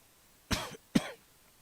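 Two sharp coughs in quick succession from a person with a medical condition, close and fairly loud, the second slightly huskier, with quiet around them and no talk.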